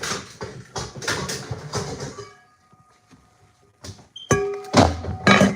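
A cooking pot is handled with clattering metal thunks, a pause, then more knocks and a ringing clank as it is set down, close and fairly loud.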